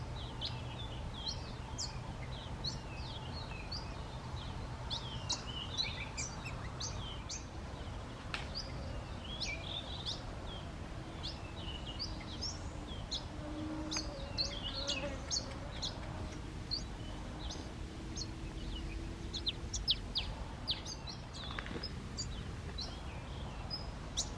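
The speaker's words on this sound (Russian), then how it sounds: "Его веселая песенка в любую погоду слышна, это чириканье" A small garden bird chirps in short, scattered bursts, faint and somewhat distant, over a steady low background hum with insect-like buzzing.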